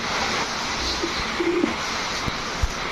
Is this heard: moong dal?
no